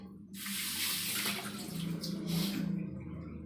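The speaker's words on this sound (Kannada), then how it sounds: "ತಂತಾನೆ ಅಲ್ಲಿ ಬೇಸಿಂದಾಗ ಹೋಯ್ತಾವ ನೀರು" Water runs and drains into a washbasin with a steady, close rushing splash for a few seconds, with no voices.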